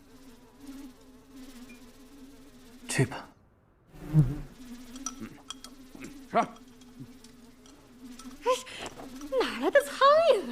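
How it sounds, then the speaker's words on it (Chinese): Flies buzz around in a wintry indoor scene of a Chinese costume drama, a steady close drone running throughout, with brief spoken lines and a few sharp rustles over it. "大冬天的，这哪来的苍蝇啊？"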